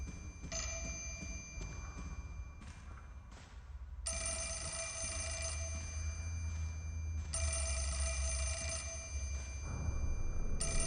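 A telephone rings in the video game Fatal Frame 4: Mask of the Lunar Eclipse, a shrill electronic bell sounding in long repeated bursts with short pauses, loud over a low ambient hum and no talking.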